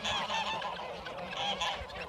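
Geese honk loudly and continuously at close range, several birds calling over one another in harsh, overlapping honks with no pauses.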